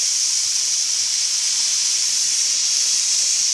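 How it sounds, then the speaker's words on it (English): Steady, loud hiss of steam venting from a pressure canner before processing dry pinto beans, a continuous rushing jet with no pauses, close up and heard alone. "Okay, now you can see it's steaming."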